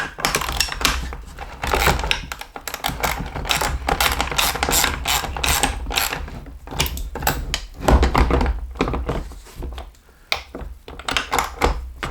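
Hand ratchet snugging the headless carriage bolts on a MODbox utility cart, a run of close, loud clicking bursts and mechanical rattles with short pauses between tightening strokes.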